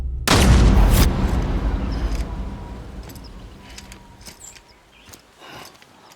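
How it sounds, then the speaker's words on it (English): A single loud gunshot cracks out at close range in Death Stranding, its heavy boom decaying slowly into a quieter, hollow ambience with faint scattered clicks. "before a gunshot pulls us out."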